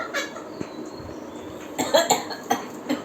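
A few short, raspy coughs in quick succession from a person who began coughing while laughing, close by, over a faint background hum.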